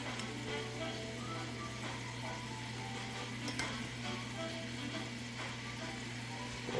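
Scrambled eggs fry in bubbling butter in a pan with a soft, steady sizzle that holds evenly throughout, fairly quiet and with no voices.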